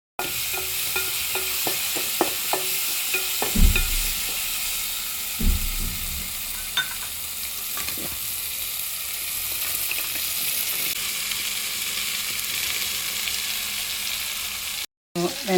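Chopped okra frying in a pan with tomato, a constant hiss of oil broken by scraping stirs and a couple of heavy knocks early on, then settling into a steady sizzle.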